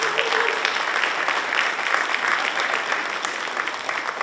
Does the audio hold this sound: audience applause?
yes